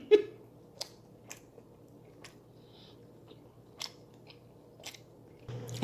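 Bites and chewing of a butter-aged tomahawk ribeye steak: a handful of sharp, close mouth clicks and soft chews spaced over a few seconds in a quiet room, no speech.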